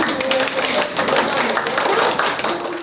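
Colleagues applaud workers of the Right Bank social protection department as they receive awards at a ceremony in Dnipro: steady, dense clapping from a room of people that runs through the whole stretch at an even level.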